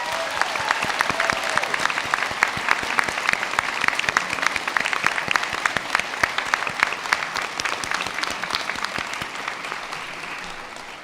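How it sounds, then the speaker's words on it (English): A graduation ceremony audience gives a long, sustained round of applause for the graduates' supporters, dense clapping from a large crowd in a hall that fades slightly toward the end. "I'd just like you all to acknowledge that now with a huge round of applause for your supporters."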